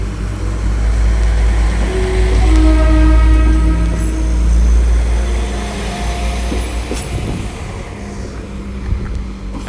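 A West Midlands Railway service to Nuneaton passes through Leamington Spa station, a loud, deep rumbling engine drone with rising and falling tonal whines that swell, hold and slowly fade over nearly ten seconds.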